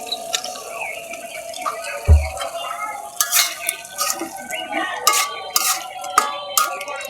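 Shing fish go into a pot with clattering and a soft thud, followed by scraping stirring and spoon clinks against the pot's metal rim.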